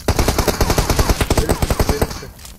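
Rapid automatic gunfire rattles in a PUBG Mobile match as players shoot at a car, a loud close burst of roughly twenty evenly spaced shots fading out at the end.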